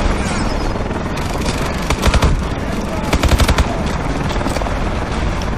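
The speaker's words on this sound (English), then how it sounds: "Someone's still shooting me." Call of Duty Advanced Warfare gunfire, sustained loud automatic bursts and rapid rattling volleys with heavier clusters of shots, dense and continuous throughout, with a voice talking at times.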